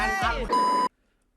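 A brief vocal sound gives way to a short, clear electronic tone from a phone announcing an incoming message, lasting under half a second and then cutting off into silence.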